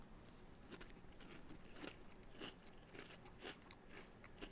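Crunchy cereal eaten dry, without milk, gets chewed close to the microphone, a series of sharp, evenly spaced crunches with a quiet background and no talking.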